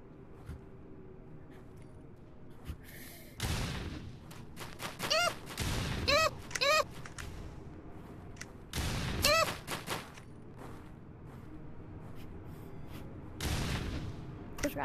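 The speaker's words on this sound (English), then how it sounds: "Another shotgun." Shotgun blasts from a video game firefight, several loud bursts spaced a few seconds apart, with clicky reloading or handling noises between them over low background ambience.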